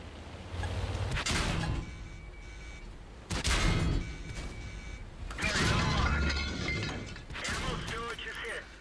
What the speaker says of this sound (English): Alright, so the Bourrasque is fired twice.